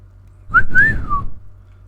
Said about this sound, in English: Yes, I whistled at myself.